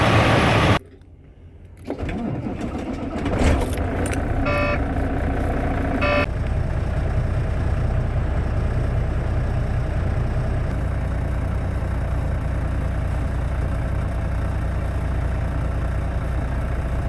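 A truck engine starts with a brief starter whir, some clicks and a couple of short tonal beeps, then settles into a steady, loud idle that continues unbroken.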